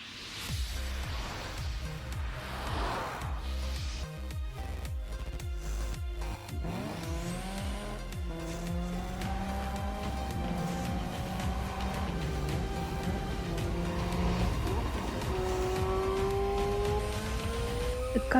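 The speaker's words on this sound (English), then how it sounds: "A car racing game." Race cars in the Gear Club 3 racing game, engines revving and whining through rising gear shifts with brief tire squeals, loud and continuous over game music, with no talk.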